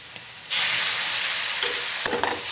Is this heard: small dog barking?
no